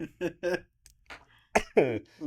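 Several short, harsh coughs in quick bursts, close to the mic, with brief bits of voice between them.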